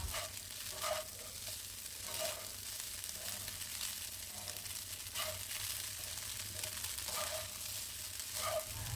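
Egg fried rice sizzles steadily in a hot pan over raised heat, a constant crackling hiss with occasional soft scrapes of stirring.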